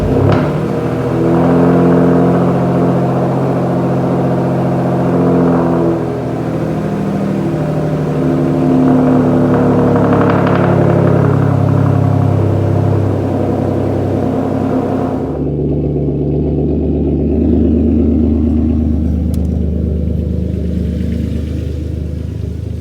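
A Hyundai Genesis Coupe with a 3.8 turbo engine starts up indoors and runs loud and close, its steady engine tone rising and falling with revs before a sudden drop to a lower idle near the end.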